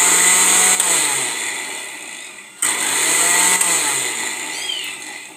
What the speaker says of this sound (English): nimetumia hii blender kwa miaka saba sasa